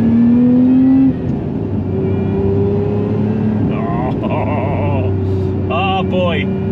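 A sports car engine drones steadily, then its pitch climbs in a sharp rev as it downshifts into second gear, with someone talking over it near the end.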